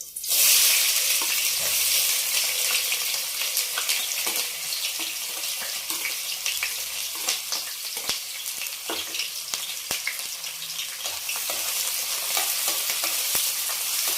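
Fenugreek seeds crackling in hot oil for a fish curry, a loud, dense and steady sizzle with scattered sharp pops and crackles throughout.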